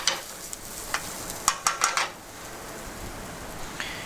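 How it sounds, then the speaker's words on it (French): Rice being toasted for a mushroom risotto, stirred in a pan with a soft sizzle and several sharp scraping clicks of the spoon, fairly quiet and close. "on fait cette action qui s'appelle nacrer le riz"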